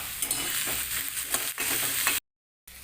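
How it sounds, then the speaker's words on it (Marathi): Vegetables sizzling and being stirred in hot ghee with rock salt, a steady close frying hiss broken by scraping stirs, cutting out to silence near the end before resuming briefly. "इथे मी भाज्या तुपामध्ये परतून घेतलेल्या आहेत"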